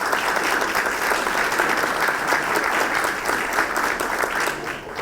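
A crowd at an evening Board of Education candidates forum breaks into a big round of applause, thick and continuous for the whole stretch, tapering slightly at the very end.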